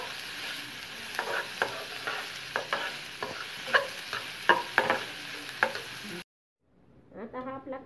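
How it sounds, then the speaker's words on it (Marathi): Onion sautés with salt in a pan, a steady frying sizzle broken by repeated scraping stir strokes at an even pace, loud and close, before the sound cuts out and a brief clattering follows. "कांदा हा चांगला परतवून घेऊया"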